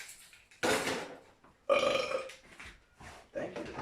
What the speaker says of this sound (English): Please, like, bass boost that burp when you edit this.